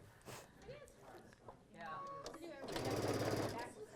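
A sewing machine stitching quilt pieces revs into a close, loud, rapid mechanical chatter in the last second and a half, following soft talking and small handling noises.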